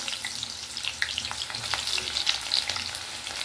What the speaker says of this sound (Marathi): आता आपण मी लांब लांब चिरलेला आहे कांदा ला फ्राय करून घेऊ